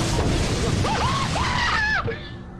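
A person screaming in a horror game, rising and falling wavering wails over a dense rumbling noise background, ending abruptly and followed by quieter noise.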